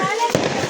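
A Diwali firecracker bomb bursts in one sharp, loud bang amid a noisy festive background with voices.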